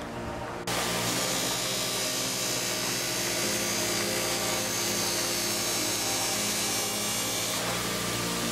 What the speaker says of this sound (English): So now I'm just gonna go through on our grinder and see if these wheels can eat up a little bit of the plastic.